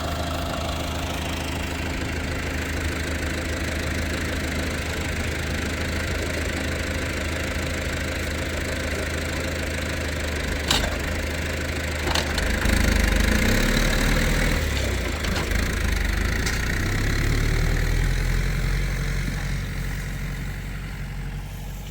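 Steady drone of a vehicle engine idling and running on a sheep farm during hot weather, loud and continuous throughout, with a couple of brief knocks near the middle and no speech.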